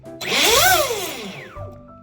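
An RC boat motor and driveline with a CNC lock nut and spacers spins up to high RPM, a loud whine that rises sharply in pitch, then winds down and fades.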